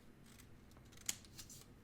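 Scissors cut paper pieces for a classroom circle-area lesson. A few quiet snips include one sharp, crisp cut near the middle, set against a soft room background.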